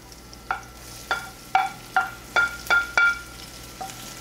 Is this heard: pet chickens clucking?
no